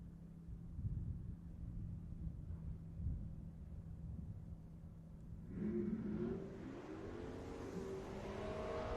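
Drag race launch between an LS-powered hot rod and a 1986 Mustang: a low idle rumble gives way to a sudden roar as engines rev and pull away, rising tones climbing loud and sustained toward the end.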